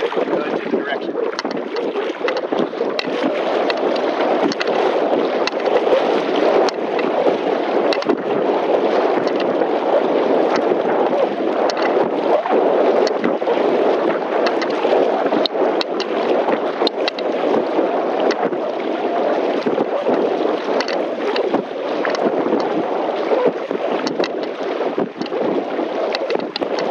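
A surfski kayak is paddled across open water, with continuous splashing and swishing of paddle strokes under steady wind rumble against the microphone, fairly loud and close throughout.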